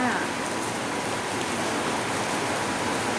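Heavy rain hisses steadily and densely throughout, a continuous loud wash of falling water with no breaks.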